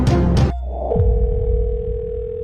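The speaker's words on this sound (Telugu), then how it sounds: "హలో, ఫోన్ ఎత్తండి సార్." Unanswered telephone call heard as a steady single-pitch ringing tone that holds after a short burst of noisy sound at the start, with no talk.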